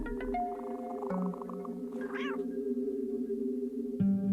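A cat meows loudly as a sound effect, a drawn-out call with a rising wail midway and a fresh meow at the end, alone with no talk.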